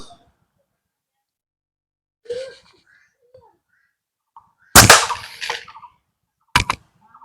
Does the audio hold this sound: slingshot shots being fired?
yes